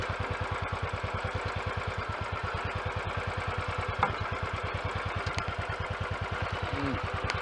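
Royal Enfield 500 Classic UCE single-cylinder motorcycle engine thumping steadily on a short test ride after work to quieten it, a fast even pulse of loud, close exhaust beats with a brief mechanical click midway.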